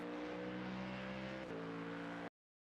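Ford Mustang GT3 accelerating out of a corner at Suzuka in iRacing, a steady loud engine drone with a brief gear-change dip midway before cutting off abruptly.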